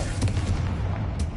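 Confringo fire spell cast in Hogwarts Legacy: a few short, muffled blasts with quick bursts of crackle, close and moderately loud over a low ambient rumble.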